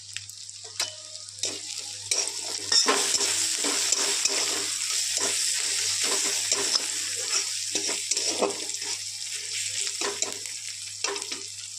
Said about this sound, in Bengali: এই তেলে দিয়ে দেবো আমরা ফোড়ন।